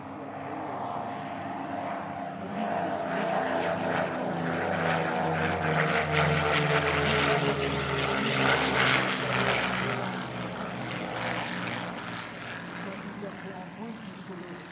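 Dassault Flamant twin propeller trainer passing at an airshow, its steady engine drone swelling as it nears mid-clip and then fading slightly, continuous throughout with no talking.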